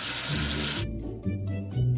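A short gush of running water rinses soap off a letter, hissing for under a second before it cuts off and gentle music carries on alone.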